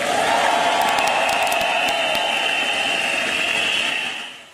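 A large crowd applauds and cheers at the Reliance annual meeting as the Jio Phone is launched, a continuous roaring wash of clapping and voices that fades out at the end.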